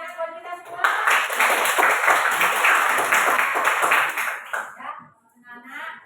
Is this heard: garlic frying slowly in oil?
no